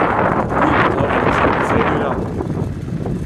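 Steady wind buffets the microphone on a hot day during a bike ride, a loud broadband roar that runs throughout and eases slightly toward the end.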